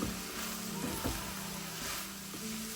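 Seasoned sloppy joe ground meat sizzles in a pan while being mixed, a soft continuous frying hiss with a few faint scrapes of the spoon, fairly quiet and without talk.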